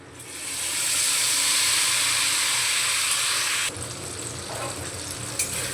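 Ground masala paste hits hot oil and fried whole spices in a pan for a Bengali chickpea paneer masala, giving a loud, steady sizzle that swells quickly, holds, then drops to a softer frying hiss.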